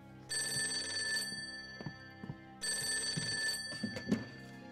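An old-style telephone bell rings in two long bursts in an office in 1940s Wuhan, with brief knocks and rustles between and after the rings.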